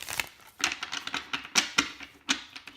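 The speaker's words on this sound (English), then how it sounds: "I've shuffled these already, but I just want to give them a few more" Rapid papery riffling of tarot cards being shuffled, coming in several short crisp bursts with brief pauses between, close and fairly quiet.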